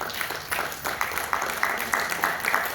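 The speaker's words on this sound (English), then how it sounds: "this particular point does require a round of applause" An audience at a residents' association annual general meeting applauds, a fairly quiet, steady patter of many hands clapping for a few seconds.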